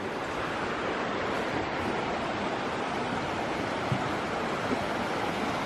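A salmon spawning burn, a small stream almost as wide as a river, flows steadily and close by, giving a continuous dense rush of water with no pauses or talking.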